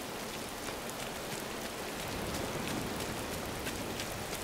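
Steady, heavy rain pours down in the cozy life-sim game Dreamlight Valley, a dense continuous patter that holds at an even level throughout with no voices.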